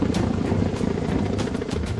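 A helicopter thuds overhead, its rotor beating in a rapid, regular chop over a loud steady engine drone, airlifting a dinosaur skeleton from a British Columbia excavation site.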